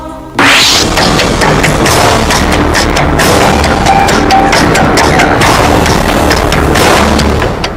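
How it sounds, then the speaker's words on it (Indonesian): A truck carrying explosives overturns and blows up in a tunnel in Yunnan Province, China. After a brief quiet start, a very loud blast erupts into a sustained, roaring rumble with crackling debris that lasts to the end. "Ledakan besar ini berasal dari sebuah truk bermuatan bahan peledak yang terguling"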